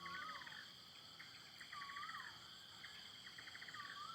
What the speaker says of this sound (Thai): ได้ยินเสียงนก จึงส่งเสียงปลุกแต่เช้า บรรยากาศท้องไร่ท้องนา